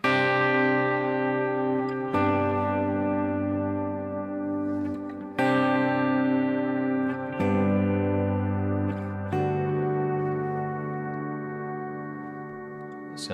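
Sustained electric guitar chords ring through an ambient reverb with long modulation, each new strum entering every couple of seconds and washing into a shimmering, slowly decaying tail, alone without talk.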